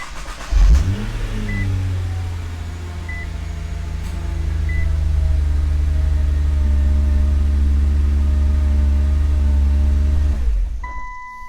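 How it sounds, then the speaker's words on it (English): A Nissan GT-R engine cranks and fires up, then settles into a steady, loud idle with a brief rise in revs before holding even; a few soft electronic beeps sound early, and the engine cuts off abruptly near the end. "start the engine, let it build a little bit of oil pressure"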